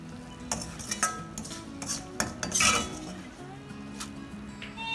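Puffed rice being tossed with a spiced mixture, dal and peanuts for bhadang, with a spoon clinking and scraping against a metal vessel in irregular bursts of rattling and stirring, close and moderately loud.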